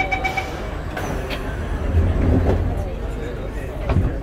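A Singapore MRT train pulls away from a station after its doors close, with a steady low rumble and rising motor hum that stays close and continuous.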